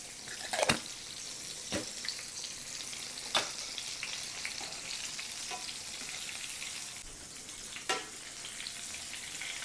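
Green tomatoes coated in cornmeal and breadcrumbs fry in hot oil with a steady, crackling sizzle. Several sharper pops and spatters break through the sizzle, and no one speaks.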